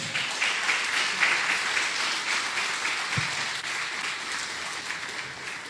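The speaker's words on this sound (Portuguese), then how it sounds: "Vamos aplaudir o profeta Eliseu?" A church congregation claps during a sermon, a dense, sustained round of applause that stays fairly loud throughout and eases slightly toward the end.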